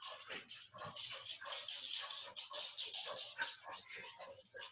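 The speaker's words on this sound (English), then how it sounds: "the dogs just got let out, so you might hear some panting" Dogs just let out indoors, heard close and fairly loud as a steady run of breathy panting with faint whimpers, under no clear talk.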